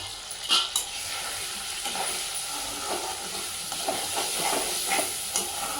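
Coriander powder, garam masala, chili and salt fry in hot oil in a gongura prawn curry, a steady crackling sizzle with scraping stirs and small pops close by, and no talking.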